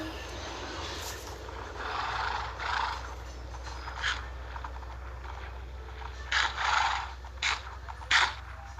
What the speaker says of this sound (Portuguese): Vou dar comida pra esses cavalos aqui.